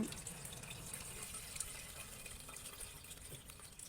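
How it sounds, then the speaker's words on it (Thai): Red karanda fruit juice strained through a sieve, a steady close trickle and patter of liquid running and dripping with no talk. "กรองเอาแต่น้ำ"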